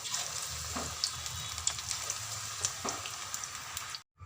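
Fenugreek pakoras deep-fry in hot oil, giving a steady, soft bubbling hiss with small crackles, close up and fairly quiet, cutting off abruptly at the end.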